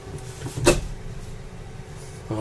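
A closet door in the hickory interior of a 2020 Lakota RV swings open with one sharp knock-like click, followed by faint rustling and a soft thump at the end, close and fairly quiet.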